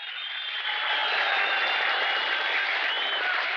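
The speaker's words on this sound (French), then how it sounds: "Sifflets et applaudissements." A theatre audience applauds and whistles in a steady, dense wash of clapping with shrill whistles threaded through, sustained and fairly loud throughout.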